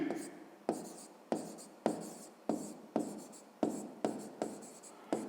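A pen writes numbers on paper while working through a fifth-grade maths exercise: about nine regular, close scratchy strokes, each starting sharply and fading before the next.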